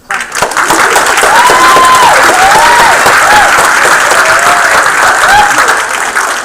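Audience at a township council meeting applauding, a loud, dense round of clapping that runs steadily for several seconds, with a few whistles rising over it.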